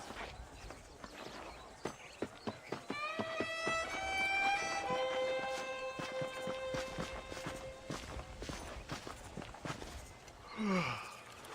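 Horse hooves clip-clopping in a steady walking rhythm while riding in the video game Red Dead Redemption, the close, regular hoofbeats sounding under a sustained musical score.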